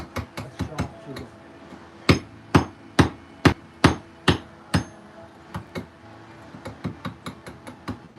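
A stonemason strikes a chisel into stone with a hammer, giving a steady series of sharp, ringing metallic blows close by, some loud and some lighter, with a short pause between bursts.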